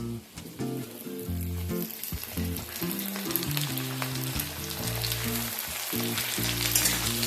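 Cauliflower fries with potatoes and carrots in a steady, moderate sizzle with occasional stirring, while a low rhythmic tonal pattern runs throughout.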